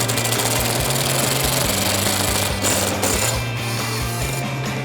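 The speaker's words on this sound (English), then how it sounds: "Then we'll go take the two screws out of the other side." A power driver backs screws out of a 1997–2006 Jeep Wrangler TJ with a loud, steady buzzing whir and rhythmic ratcheting pulses, close up and uninterrupted, with no talk.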